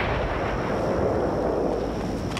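An explosion in a wartime film scene in Minsk, heard as a dense, loud, sustained roar and rumble filling the whole moment with no pauses.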